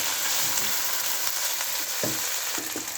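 Ginger and garlic paste frying in oil in a pan for achaar gosht, a loud continuous sizzle with a few scraping stirs of a spoon near the end, close up and with no voices.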